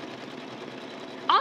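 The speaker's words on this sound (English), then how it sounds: "it will quite happily embroider away there now for us" An embroidery machine stitches a pattern with a steady, moderate whirring and rapid needle rhythm throughout, and a brief voice cuts in at the very end.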